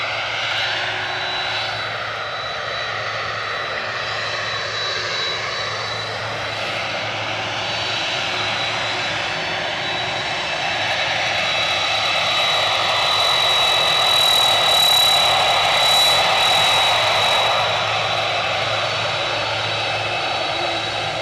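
A Ryanair jet at Edinburgh Airport roars steadily from some distance, its engine noise swelling gradually louder through the middle and staying broad and continuous with no voices.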